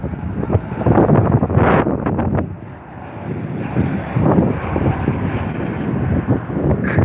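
A LOT Polish Airlines jet at Heathrow passes with a loud, sustained roar that swells and eases over several seconds, outdoors with wind buffeting the microphone.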